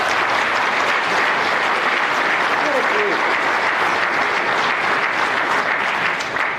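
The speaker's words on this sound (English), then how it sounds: "Can we have one more round of applause for these incredible seniors?" Dense, loud applause from an audience at a senior student athletes awards banquet, a continuous wash of many hands clapping that stays level throughout and fades slightly at the end.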